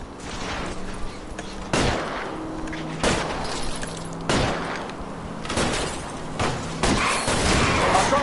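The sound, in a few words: gunshots at a car's tires in the video game L.A. Noire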